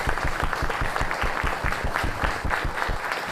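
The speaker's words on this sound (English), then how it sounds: "Please join me in welcoming him with a warm round of applause" Steady, dense applause from an audience welcoming documentary filmmaker Audrius Stonys on stage at a film festival panel, many hands clapping close and loud with no voices.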